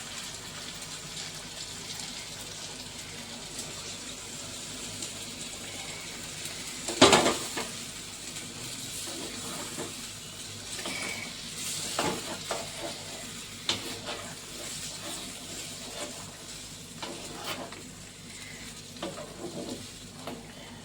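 Chilli chicken sizzles in a pan as cornflour slurry is poured in. A sharp splash and hiss come partway through, followed by steady frying and stirring scrapes, close and clear, with no talking.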